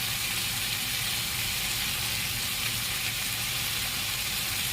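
Dry spices such as turmeric powder and homemade masala sautéing in hot oil for ivy gourd bhaji, a steady soft sizzle and crackle that runs on without pause and without talk.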